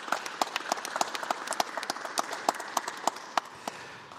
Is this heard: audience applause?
yes